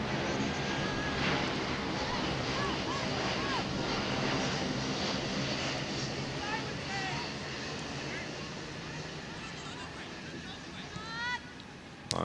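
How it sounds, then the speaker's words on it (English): An airplane passes overhead near a girls' high school soccer game, a broad, loud engine roar that slowly fades, with commentators talking over it throughout. "Flight 228 is now arriving."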